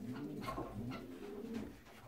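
White domestic pigeons cooing nearby, a few soft, low, rolling coos repeating over about two seconds with no talking.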